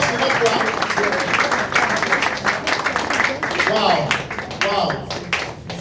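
An audience applauds in a dense, close patter of clapping, with voices mixed in amid the clapping.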